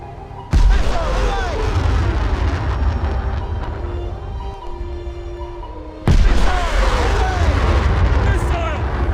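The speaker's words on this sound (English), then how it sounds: "Missile launched in our direction!" Heavy booming missile launches and explosions in a naval combat video game, two loud bursts followed by a sustained roaring rumble, with in-game voice callouts running throughout.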